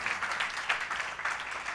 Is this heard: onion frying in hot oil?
no